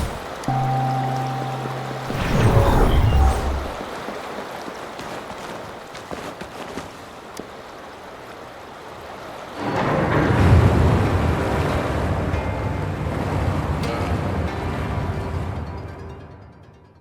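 Water rushing and draining away in the Wuthering Waves game, a loud surging wash that fades to a low rumble, then swells again into a long flowing roar before tapering off.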